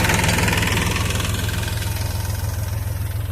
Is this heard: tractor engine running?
yes